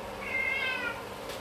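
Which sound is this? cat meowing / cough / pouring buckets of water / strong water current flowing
cat meowing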